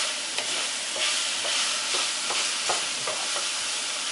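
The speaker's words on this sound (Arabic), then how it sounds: "هما تقليبتين بس زي ما احنا شايفين كده مع البصل" Onions are tossed and stirred in a hot pan for Korean-style fried rice, a continuous soft sizzle punctuated by regular spatula scrapes roughly every half second, close up with no voices.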